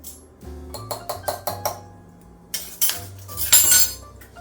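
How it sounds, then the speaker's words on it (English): Utensil stirring brown sugar and cinnamon in a bowl for an apple cobbler: a quick series of about six metallic clinks and scrapes, then louder, denser scraping strokes, close and clear, with no talk. "So we're just going to mix this up real good"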